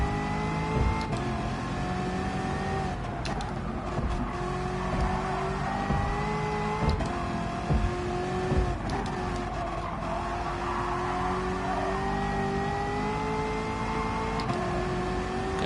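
A powerful car engine revs and shifts through gears in a PS4 racing game, its drone climbing and dropping repeatedly with brief tyre screeches and knocks across a long, steady stretch.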